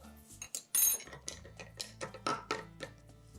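A spoon stirs a drink topped with tonic in a glass, giving quiet clinks and scrapes against the glass. A louder knock or rattle comes near the start.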